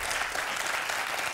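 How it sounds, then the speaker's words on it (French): A studio audience on a French quiz show claps in a thick, continuous burst, loud and even throughout the brief stretch. "Et j'applaudis doublement"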